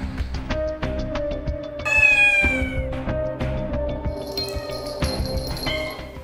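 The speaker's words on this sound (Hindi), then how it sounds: "खातून की पालतू बिल्लियों से मोहब्बत की कहानी" A pet cat meows repeatedly and loudly at close range, with one longer drawn-out meow partway through and a few faint clinks in the background.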